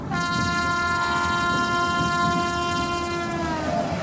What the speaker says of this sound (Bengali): হু হু করে ট্রেন ছুটছে।